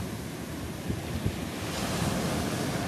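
Rough sea waves break on a beach at Primorsky, a continuous roaring wash of surf mixed with wind buffeting the microphone, swelling slightly louder toward the end, with no voices over it.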